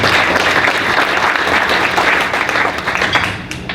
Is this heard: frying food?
no